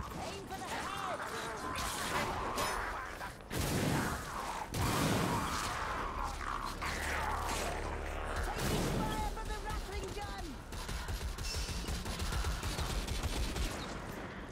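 A Gatling gun fires in Warhammer End Times Vermintide, a co-op game played on hard during The Horn of Magnus: loud, dense, rapid bursts of gunfire that run almost continuously, with crashes and voices mixed in.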